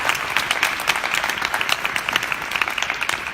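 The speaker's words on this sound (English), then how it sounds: "Can we just give a huge round of applause for our panelists?" Audience applause for a conference panel: steady clapping from a room of people, fairly close and even throughout.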